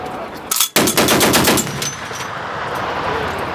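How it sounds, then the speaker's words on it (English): Bursts of machine gun fire from Uganda People's Defence Forces soldiers at a frontline base in the Congo jungle, a loud close rapid volley that breaks off briefly, then resumes and rings out into a sustained roar. "Daily life here in Democratic Republic of Congo is a mixture of routine gunshot firepower from Uganda People's Defense Forces UPDF against the enemy"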